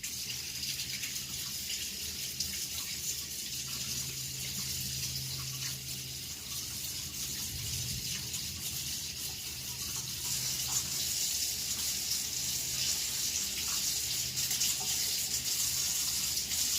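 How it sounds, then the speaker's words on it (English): Hands are washed under a running tap: a steady, fairly faint stream of water splashing into a sink, continuous throughout. "Go wash my hands real quick."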